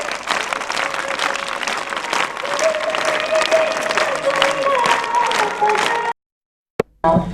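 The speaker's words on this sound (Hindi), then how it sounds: "सभी जोर से तालियां बजाएं" A large audience bursts into loud, sustained applause mixed with cheering, a dense wall of clapping that runs for about six seconds and then cuts to silence before a brief final flutter.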